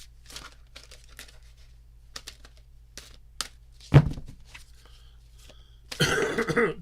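Tarot cards are shuffled in six short bursts of soft papery riffles and taps, then a loud cluster of crinkling card noise near the end, all close and alone in a quiet room.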